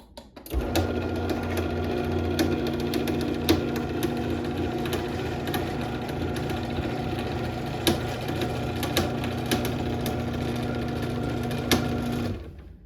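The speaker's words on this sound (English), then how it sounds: "It is a chain drive and it's an AC motor, so it wasn't designed to be quiet." A Chamberlain C410 chain drive garage door opener with an AC motor runs with a steady, loud mechanical hum and rattle, starting abruptly and stopping near the end, with no talking.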